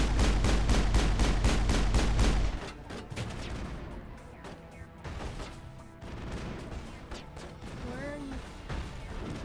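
Rapid bursts of gunfire in Mass Effect rattle loudly and close for the first couple of seconds, then continue as scattered, quieter shots alongside clatter and a brief voice-like tone near the end.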